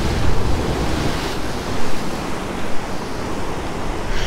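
Stormy sea waves at Fiolent crash against rocks, a constant roaring wash of surf and spray with several heavier surges, loud and close, mixed with wind buffeting the microphone.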